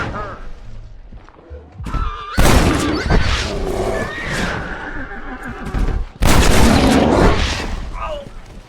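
Loud bursts of gunfire in Red Dead Redemption as riders fire on a bear, two heavy volleys separated by a brief lull, mixed with horse whinnies and voices talking.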